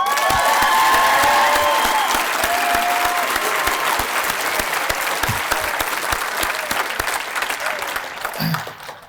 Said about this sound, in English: Let's give the recent graduates a round of applause.